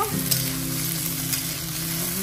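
Ghugni cooks in a hot pan with a steady, close, continuous sizzle and crackle of frying food, loud and unbroken throughout.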